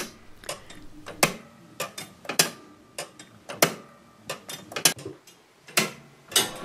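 A homemade clock built from bike chain and hand-cut gears ticks close by, sharp metallic clicks in an uneven rhythm of single and doubled beats, with a faint mechanical rattle between them.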